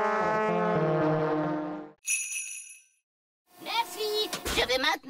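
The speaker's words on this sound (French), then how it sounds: "Les elfes aiment souffler dans leurs cornes." Cartoon elves blow their horns in a loud, sustained, blaring tone lasting about two seconds, followed by a high tinkling chime and then excited cartoon voices.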